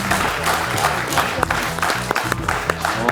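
A studio audience at a Georgian TV comedy game show claps in a loud, sustained burst of applause with sharp individual claps throughout.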